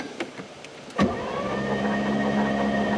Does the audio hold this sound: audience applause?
no